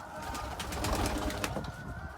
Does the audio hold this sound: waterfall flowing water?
no